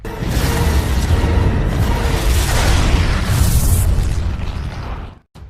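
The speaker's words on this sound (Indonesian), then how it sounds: "sesaat sebelum kapal itu meledak, kapal pun menyala, Kelly dan Jack ditarik dan kapal itu meledak" A boat blows up in the film Piranha 3D: a loud, sustained roaring blast with crackling debris and rushing fire lasting about five seconds, then an abrupt cutoff.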